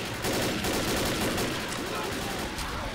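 Continuous rapid gunfire in the zombie shooter game Left 4 Dead, loud and dense bursts filling the moment over game noise.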